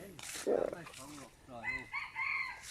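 Chickens kept in a garden clucking and crowing in a short burst of several calls, moderately near and faint, with a voice murmuring faintly underneath.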